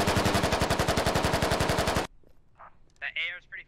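Rapid automatic gunfire rattles in a loud, steady burst for about two seconds, then stops abruptly, followed by faint distant shots in the Squad video game.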